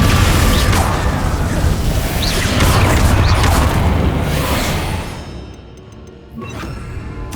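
Confringo spell explosions in the video game Hogwarts Legacy, loud dense booming blasts and crashes that fill the first five seconds and then thin out into quieter effects.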